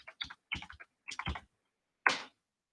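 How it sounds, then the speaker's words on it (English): A few quick bursts of keystrokes on a computer keyboard as a password is entered, close and quiet clicks in short irregular groups, ending with one firmer key press after a pause. "Now type this password here."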